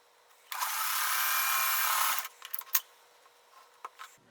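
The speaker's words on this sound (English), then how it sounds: "Let's sew that together." A sewing machine stitches quilt blocks of small brick-shaped precut pieces in one steady, fairly close run of about two seconds. A few soft handling clicks and rustles follow in otherwise quiet surroundings.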